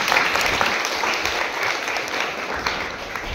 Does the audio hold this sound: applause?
yes